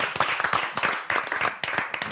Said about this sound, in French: On a envie de vous applaudir, Amandine.